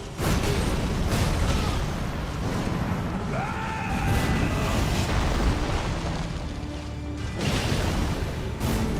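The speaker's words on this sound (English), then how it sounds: "That's an AoE explosion." An area-of-effect explosion in a solo raid game against the Nightlord: a sustained, dense rumbling blast with whooshing bursts, loud and continuous for several seconds, no talk over it.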